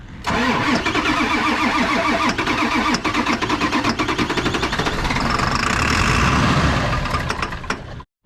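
A worn-out Ford 7.3 diesel engine cranks and fires, running rough and loud with uneven knocking pulses, settling toward a harsh idle before cutting off near the end.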